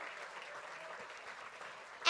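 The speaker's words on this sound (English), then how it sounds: "Let's give him a round of applause." An audience at the SourcesBC Run For The Roses fundraiser applauds the executive chef, a steady patter of clapping from many hands heard at a moderate distance.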